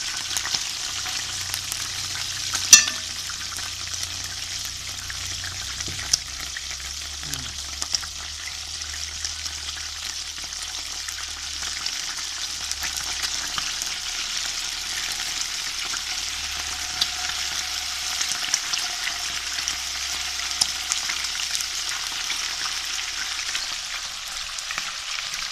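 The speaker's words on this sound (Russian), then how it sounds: "Обжариваю, поставлю тушить его." Meat fries in a pan with a steady, fairly soft sizzle that hisses evenly for the whole stretch. One sharp clank comes near the start, and a low hum runs underneath.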